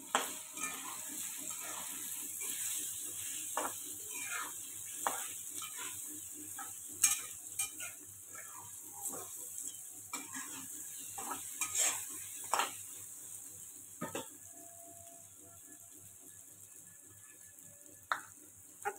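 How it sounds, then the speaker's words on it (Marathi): Boiled, peeled potatoes are stirred with turmeric and spices in a pan for samosa filling, giving quiet intermittent scrapes and clinks over a soft, steady sizzle. "आता आपण ह्यात टाकूया जे सोलून घेतले होते ते बटाटे. आपण ह्याला एकत्र करून घेऊया."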